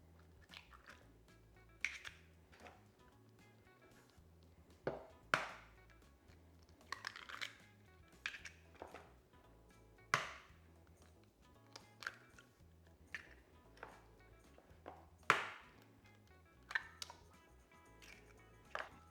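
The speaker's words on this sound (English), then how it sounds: "And now I'm just going to crack 4 eggs into this." Eggs are cracked into a bowl in a quiet kitchen, giving a series of faint, sharp taps and cracks spaced irregularly over several seconds, with soft clicks between them.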